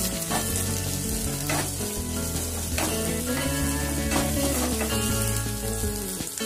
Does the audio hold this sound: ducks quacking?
no